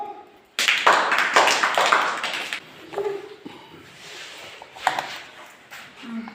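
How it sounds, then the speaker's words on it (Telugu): Audience clapping at a school science fair, a burst of dense, quick claps from many hands lasting about two seconds, then fading into scattered taps and room noise. "క్లాప్స్."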